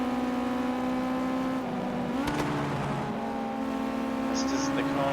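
Ginetta GT5 race cars in the Project Cars 2 racing game rev hard and continuously, with engine tones rising and dropping through gear changes, loud and sustained throughout under commentary.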